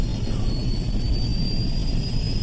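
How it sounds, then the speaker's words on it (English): A jet airliner's second engine spools up, the TACA Flight 110 aircraft giving a steady, loud roar with a thin high whine running through it, continuous and close with no voices. "taking the steps to fire up the second engine"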